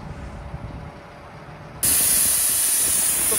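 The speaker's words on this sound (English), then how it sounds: "Valve out the tyre, you're going to let it down" With the valve core removed, air rushes out of a tractor tyre in a sudden, loud, steady hiss that begins partway through and continues unbroken, following quiet outdoor background noise.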